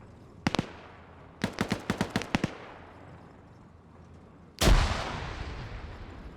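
Arma 3 video game firefight: one sharp shot, then a rapid string of about eight distinct gunshots, followed after a pause by a heavy blast with a long rumbling decay, all moderately distant and with no talk.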